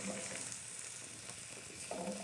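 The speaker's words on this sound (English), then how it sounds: "Let's hear that sizzle." Skirt steak sizzles steadily in a hot pan, a constant crackling hiss that stays close and fairly quiet throughout.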